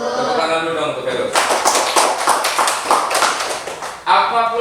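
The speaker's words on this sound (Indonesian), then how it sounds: "Tepuk tangan dulu dong untuk Heru." A primary school class claps for a classmate, first quiet talk, then a burst of rapid, close clapping from many hands lasting about three seconds before voices return.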